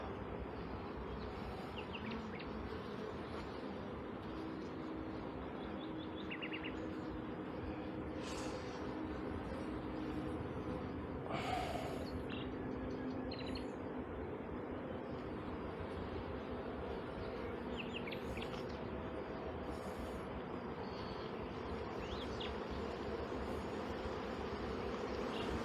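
Honeybees hum steadily and densely around hive frames holding pollen and little nectar, opened during an acacia honey harvest, a continuous close buzz with occasional louder passes of individual bees near by.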